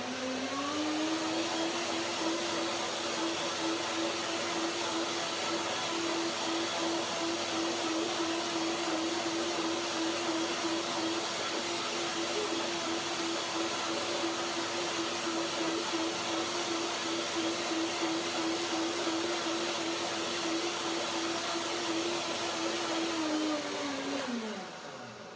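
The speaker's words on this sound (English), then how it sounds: "One more blending." A blender whirs steadily, blending Brazil nut banana milk in one long, loud, even run with a constant motor whine that winds down at the very end.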